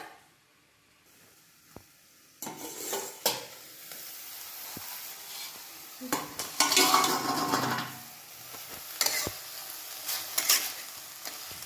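Beto shak greens being stirred and fried in a pan, with a soft sizzle and a cluster of scraping, clattering utensil strokes against the pan. The greens were washed and hold a lot of water, and the stirring goes on steadily with no talk.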